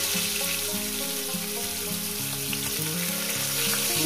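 Bhetki fish pieces frying in hot oil for a doi bhetki dish, a steady close sizzle with broadband crackle, while stepped tonal bands of background music play throughout.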